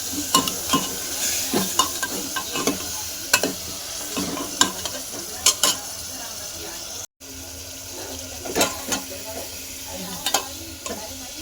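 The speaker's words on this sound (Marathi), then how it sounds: "लसूण अद्रक कोथिंबीर मस्त तळून घेतली गुण्यात बकराचा मसाला टाकून घे त्याला मस्त फ्राय करून घे" Garlic, ginger and coriander frying with mutton masala in a small home kitchen, a spoon stirring and scraping the pan in intermittent strokes over a steady sizzle, with running water and some background voices.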